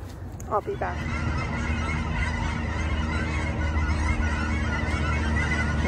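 Ducks flying overhead in the dark give a couple of brief honking calls early on, then a steady outdoor wash continues while a person speaks briefly.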